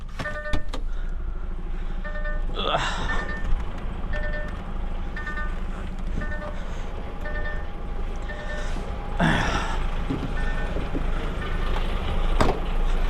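A truck towing a trailer creeps forward, its engine a steady low rumble close by, with faint repeating electronic beeps or chimes and a couple of brief clunks layered over the drone.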